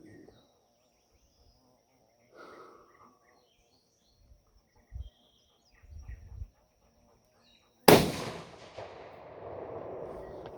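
A single rifle shot from a .280 Ackley Improved cracks out loud and close after a quiet stretch with faint chirps, then rolls off in a long echoing tail.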